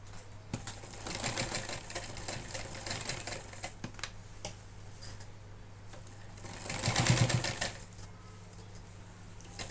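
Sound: sewing machine stitching a cloth bag

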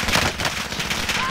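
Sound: gunfire in video game Call of Duty: Modern Warfare

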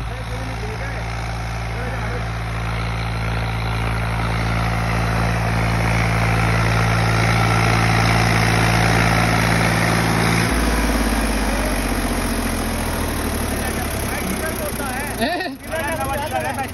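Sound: 485 tractor engine idling

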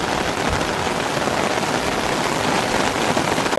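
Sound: heavy rain

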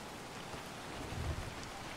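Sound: rain falling in the video game Gord

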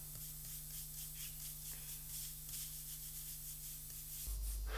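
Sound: pastel brush applying brown pastel on paper

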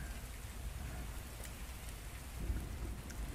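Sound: rain pattering on a roof with thunder

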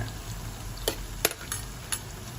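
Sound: french fries frying and being stirred

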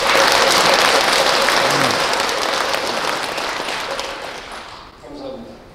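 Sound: applause at a Buddhist ceremony

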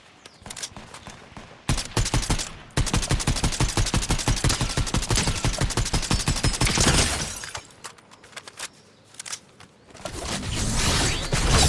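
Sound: gunfire in a Star Wars skin video game

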